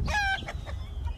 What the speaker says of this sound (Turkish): Elimde şu anda 5 adet silver brakel horozu var fazladan.